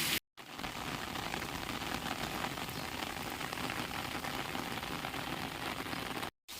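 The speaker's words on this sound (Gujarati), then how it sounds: "હજી વરસાદ આવે છે, ફરિયા પાણી નીકળી ગયા" Steady rain falling on a farm field during a heavy downpour, a dense even hiss of drops close by that barely varies, with brief dropouts at the very start and end.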